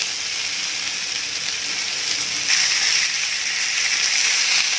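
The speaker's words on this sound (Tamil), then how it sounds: "2 மீனையும் இது மாதிரி பொரிச்சு எடுத்துடலாம்" Kerala-style meen pollichathu, masala-coated fish frying in a pan with banana leaf, giving a continuous close sizzle and hiss that grows slightly louder partway through.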